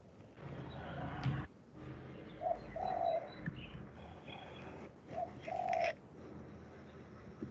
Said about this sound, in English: the bird chirping outside.